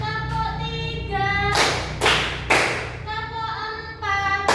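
A group of participants in a classroom training session claps in unison, three sharp bursts in quick succession between stretches of a teacher's voice.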